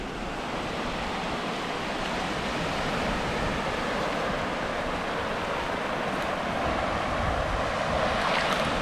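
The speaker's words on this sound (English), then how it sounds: "Martin's first paddle in the Atlantic." Atlantic Ocean waves wash against the Cornish shore in a continuous broad rush of surf with wind buffeting the microphone, steady and fairly loud throughout.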